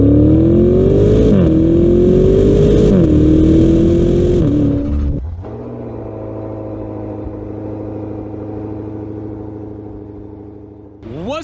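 A Maserati Levante V8 Ultima SUV, a 580-horsepower V8, revs loudly as it pulls away, the engine note rising in stepped gear changes before settling into a steadier, quieter drone while cruising.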